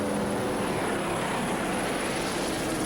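A steady, loud whir of a helicopter flying overhead at the 1988 St Pete Offshore Grand Prix fills the clip, a constant droning rotor noise with a high whine above it.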